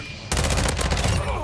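A fast, continuous burst of ISO 45 (APC45) SMG fire in the video game Call of Duty: Modern Warfare II, a sharp, dense rattle starting abruptly and running for just over a second.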